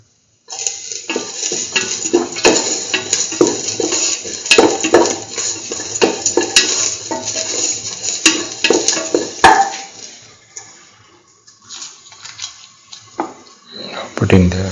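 Garlic pieces sautéing in a pan while a utensil scrapes and clinks against the metal, steady stirring with sizzling throughout, quieter toward the end.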